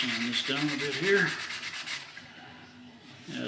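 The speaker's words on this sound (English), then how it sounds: "I'm using 400 and the binding is actually sanding down pretty easy" Hand sanding of binding on a DIY Les Paul guitar kit body with 400 grit sandpaper, a few quick close rubbing strokes, while someone speaks briefly at the start.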